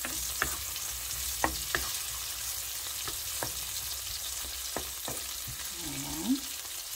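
Mixed vegetables with tomatoes sauté in a pan, a soft steady sizzle broken by scattered clinks and scrapes of a spoon as they are stirred, fairly quiet and close.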